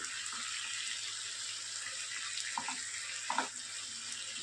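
Butter garlic prawns fry in a pan with a faint, steady, soft sizzle, joined near the end by a couple of light stirring taps.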